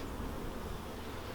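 Honeybees crowd a small hive of two or three frames opened for inspection, their steady, dense buzzing filling the air at a low, even level with no voices.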